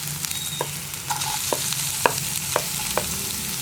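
Chopped onion frying in hot oil with ginger and garlic for a Kerala okra tamarind curry, a steady close sizzle with a few sharp clicks of a spoon stirring against the pan.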